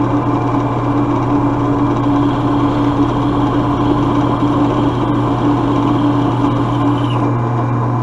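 Steady mechanical whine and hum of a drill press running a step bit into go-kart parts, with a constant motor drone and faint grinding of cutting throughout.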